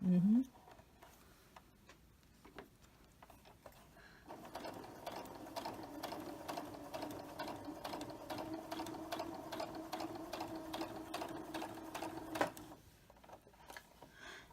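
Sewing machine running through fabric in a quilting session: a steady, rapid needle clatter and motor whir starts after a few seconds and continues for about eight seconds before stopping.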